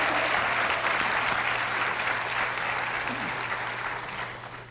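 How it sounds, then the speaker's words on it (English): An audience at a company employee update meeting applauds a staff member with sustained clapping that holds steady and then slowly tapers off. "So let's give Bob a big round of applause."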